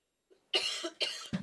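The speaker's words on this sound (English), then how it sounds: "I've got a bit of a cough." A man coughs during a Vega rocket launch commentary: a brief throaty catch, then two loud, close, harsh coughs in quick succession, alone without talk.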